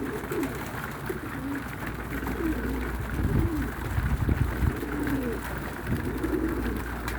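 Several pigeons coo repeatedly in soft, rolling phrases, close by, over a steady background hum.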